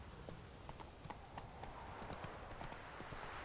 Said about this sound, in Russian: Давайте мы на нашу лошадку сядем и поедем продаваться.